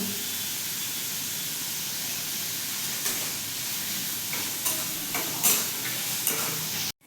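Chopped onion and chicken sizzle and hiss steadily in a pan for chicken pulao, with scraping stir strokes of a spoon growing more frequent toward the end; no one speaks.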